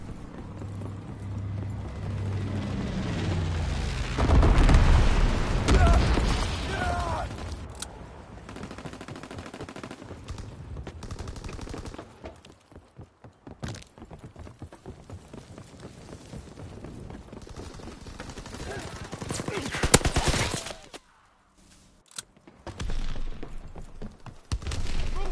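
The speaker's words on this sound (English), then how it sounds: "Incendiary bombs incoming." Incendiary bombs burst in a naval battle video game, a loud rolling barrage of booms and rapid crackling blasts with dense gunfire-like rattle filling the scene, swelling and fading over the whole stretch.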